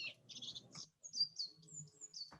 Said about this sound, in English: I've been hearing the birds outside my window that I put bird food out for.